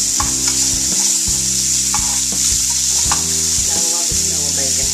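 Bacon browning in a pot for beef bourguignon, with a loud continuous sizzle and repeated scraping stirs every second or so, close up and without voices.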